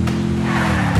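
A vehicle in the Free Fire video game drives with a steady, droning engine hum, and a brief skid or tire squeal comes near the end, close and loud with no speech.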